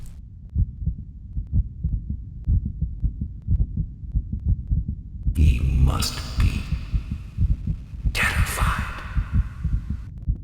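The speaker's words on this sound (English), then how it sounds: "We open the lantern as we hear his heartbeat." Heartbeat in the horror video game The Dark Eye, a steady low throbbing pulse running the whole time, loud and close, with someone speaking over it and brief noisy bursts partway through.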